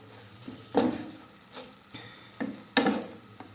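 Meat being roasted in butter in a pan for homemade iskender gives off a steady sizzle, broken by several stirring scrapes at a roughly regular pace, close by and moderately quiet, with no talking.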